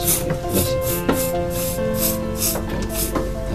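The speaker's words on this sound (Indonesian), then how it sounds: "Kita coba semprot ya." Short repeated hissing bursts of a spray aimed at a newborn goat kid's wet umbilical cord, about eight pulses in a steady rhythm, close and fairly loud with animal and room noise underneath.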